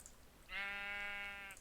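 A single sheep bleat from a block-building video game, one sustained tonal bleat lasting about a second, faint and alone without talk.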